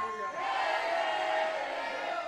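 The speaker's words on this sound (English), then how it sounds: "As this crowd singing the song to Suge D, telling them they want him gone" A wrestling-event crowd sings and chants in unison, a dense, sustained roar of many voices filling the arena.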